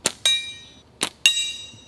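Slingshot shots strike a metal target on an outdoor woods course, giving two pairs of bright ringing clangs, a short tick followed by a louder ping that rings on, close and clear.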